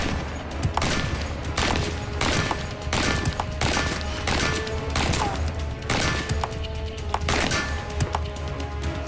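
An AK-47 assault rifle fires in semi-automatic mode, with about ten sharp, loud shots spaced roughly a second apart, each followed by a brief echo.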